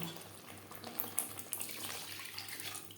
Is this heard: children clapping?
no